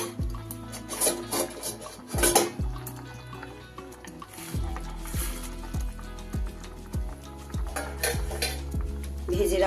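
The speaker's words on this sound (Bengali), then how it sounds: "এবার আমি এর মধ্যে দিয়ে দেব ভেজে রাখা বড়াগুলোকে" Fried chhana balls go into a pot of potato gravy, heard as a run of close metallic clanks and scrapes of a spoon against the pot over a low simmering sizzle, with no talking.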